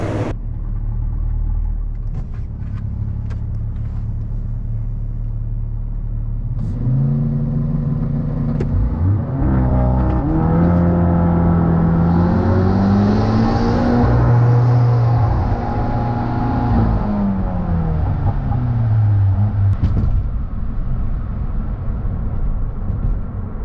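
A DSG race car accelerates hard on a drag pass, its engine note climbing loud and close with rising, wavering harmonics that swell to a peak, then ease off and fall away, with no voices over the roar.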